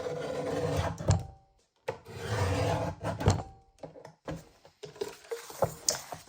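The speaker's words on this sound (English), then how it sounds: "With a large trimmer like this, I am able to trim all of them at once," A large paper trimmer slices through a stack of planner pages, giving several close, dry rasping cuts with short pauses between them, followed by lighter scraping and tapping of the paper being handled.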